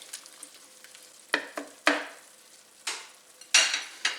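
Canned sliced black olives and their liquid stirred into a tortilla casserole mixture in a pan, with a few distinct scraping, sloshing spoon strokes over a quiet background sizzle.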